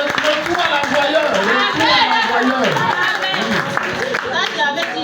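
A church congregation applauds and cheers in praise of the Lord, with a dense wash of clapping under many overlapping, excited voices.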